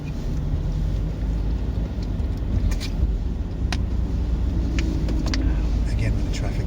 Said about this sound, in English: Again with the traffic this morning.